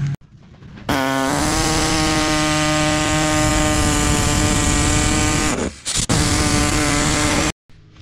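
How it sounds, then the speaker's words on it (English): An air-powered Sawzall cuts fiberglass during an oilfield cementer overhaul, a loud, steady buzzing rasp that runs for several seconds, drops out briefly, resumes, then stops abruptly. "I'm gonna take this air-powered Sawzall, which is the best tool for cutting and shaping fiberglass."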